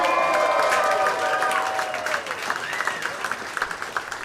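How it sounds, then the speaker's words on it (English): An audience at a comedy competition final in Cincinnati applauds and cheers for a comedian coming to the stage, a loud sustained burst of clapping and whoops that thins into scattered claps, with a voice over it. "Make some noise for Nick Higdon!"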